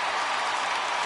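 Baseball crowd in a PlayStation 4 video game rising on a 3-2 count, heard as a steady, loud, broadband roar of cheering and applause that holds evenly without a break; no talking.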